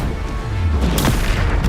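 Bombarda explosion spell cast in Hogwarts Legacy, a loud booming blast with a sharp crack partway through over a dense, steady rumble of game combat noise.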